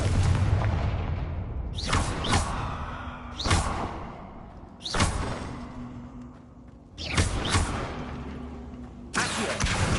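Repeated Confringo fire-spell explosions in Hogwarts Legacy, five heavy booming blasts, each with a sharp crack and a rumbling tail, fired at a steady pace one after another.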